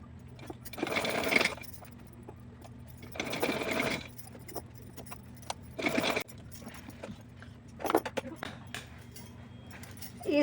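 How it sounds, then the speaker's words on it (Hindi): A sewing machine stitches a small dress for a Laddu Gopal idol in four separate whirring runs of a second or so each, with quiet pauses between them. "तो चलिए सिलाई करके आपको दिखाती हूँ।"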